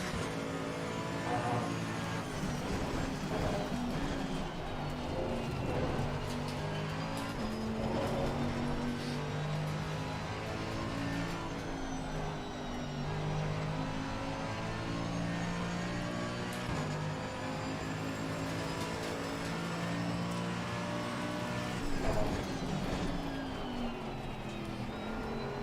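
Race car engines in a sim racing game, with a BMW among the cars: a steady, fairly quiet engine drone whose tonal pitch climbs and falls with gear changes throughout.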